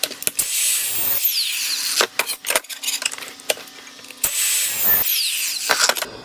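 Bursts of a high-pitched grinding whine from a power grinder knocking the burr off a lawn mower blade, starting and stopping several times with clanks and short pauses between passes.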